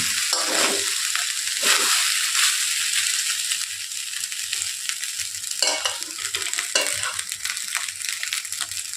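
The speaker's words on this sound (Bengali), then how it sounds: "তেলের সাথে ভাতটা একটু ভালো করে ভেজে নেব" Cooked rice fries in oil in a pan for homemade fried rice, with a loud close sizzle and repeated scraping, tossing strokes of a spatula over about nine seconds, no voices.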